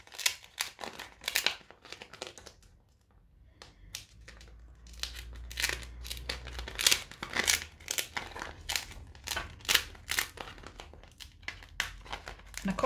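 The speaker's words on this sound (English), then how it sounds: "Makes a lovely noise when it's peeling off." Cream paste peels away from a texture plate in a run of soft crackly, sticky crinkles and brief tearing bursts, close and quiet, with a faint low hum beneath.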